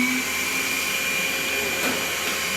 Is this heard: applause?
no